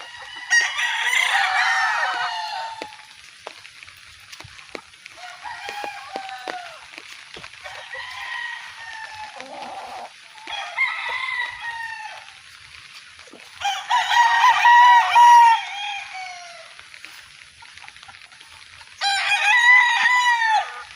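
Several chickens on a farm cluck and crow in bursts during rainy weather, some loud and close, others softer, with quiet gaps between the calls.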